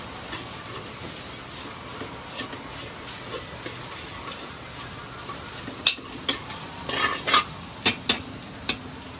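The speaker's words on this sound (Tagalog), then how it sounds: "Panoorin po natin kung paano mag fried rice." Leftover rice stir-fried in a pan: a continuous hissing sizzle under sparse spatula scrapes that grow into a quick cluster of sharp knocks near the end, with no talking.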